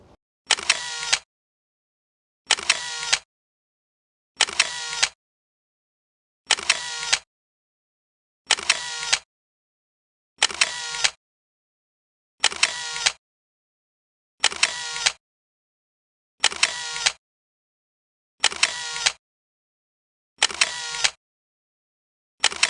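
A single-lens reflex camera shutter fires in a slow, even series of about twelve separate clicks, each spaced roughly two seconds apart, close and clear against silence.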